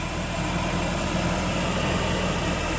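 A Nissan Z24i fuel-injected engine held just off idle on a test bench, running as a steady, even drone with a low hum throughout and no change in pitch.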